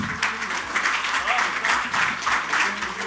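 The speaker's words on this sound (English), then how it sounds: "Can we have a huge round of applause, everyone?" Audience clapping at a real estate conclave, a dense, sustained burst of applause filling the room for about three seconds, loud and even, with a voice heard under it.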